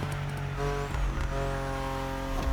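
Engine note of a car powered by a BMW S58 engine in The Crew Motorfest racing game, a steady loud drone with strong harmonic bands and slight pitch shifts, running continuously without speech.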